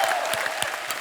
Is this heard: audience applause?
yes